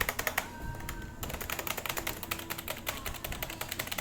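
Typing on a Fantech Soldier K612 gaming keyboard, a steady run of quick, fairly quiet key clicks in an irregular rhythm, heard close up with no talking.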